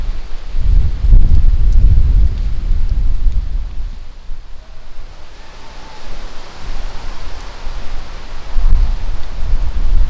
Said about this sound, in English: not for YouTubers who want to record and it's windy outside